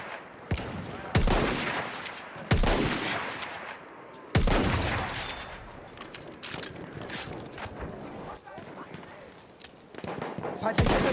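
Gunfire in the World War I shooter Battlefield 1, with loud bursts of shots and fusillades in several clusters, then lingering rattles and distant battle noise, with game voices calling out between the bursts.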